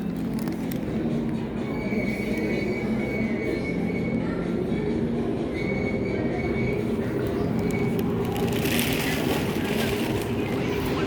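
A Lyon metro train pulls into a station, its steady low rumble and rolling wheels filling the platform, with squealing metallic tones and a brighter hiss near the end as it arrives.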